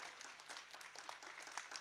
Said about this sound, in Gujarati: આપણે સૌ તાળીઓના જોરદાર ગડગડાટથી વધાવીશું દોસ્તો